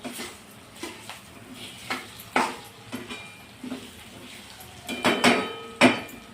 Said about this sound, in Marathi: बारीक चिरून बटाटा अगदी परतून घेणे